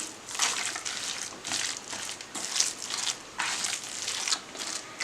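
Minced mutton kola mixture is worked together with salt and finely chopped small onions, producing close rhythmic squelching and crunching bursts that repeat about every half second.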